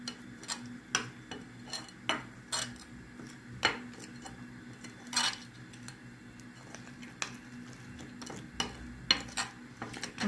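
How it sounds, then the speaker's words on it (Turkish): A spoon stirring a chili-flake sauce in a bowl, producing repeated light clinks and scrapes in an irregular rhythm, close and fairly quiet, with no talking. "Sonra da bir kaşıkla bunu güzel bir karıştıralım."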